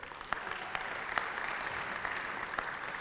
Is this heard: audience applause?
yes